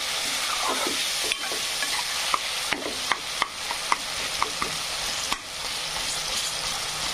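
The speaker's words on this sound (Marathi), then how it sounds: "कांदा आणि टमाटर फ्राय होत आहे।" Chopped onion and tomato fry in a hot pan, sizzling steadily while a spoon stirs and scrapes with a series of sharp knocks, close up with no voices.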